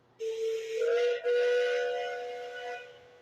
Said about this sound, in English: It's a very good whistle. I love that type of whistle.